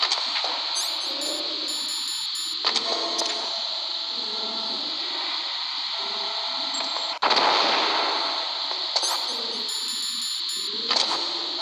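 Explosions and gunfire from the video game Metal Gear Solid on hard mode, with sharp blasts breaking through a constant hissing game background, one big burst in the middle and others at the start and end.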